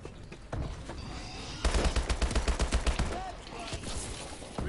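Rapid automatic gunfire fills a Call of Duty Exo Zombies match, a tight burst of evenly spaced shots in the middle followed by scattered further shots and game noise.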